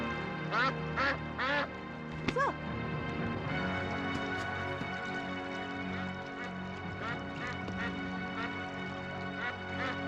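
A bird gives repeated harsh, honking quack-like calls in short bursts, close and clear, with a voice shouting to chase it off and steady background music underneath.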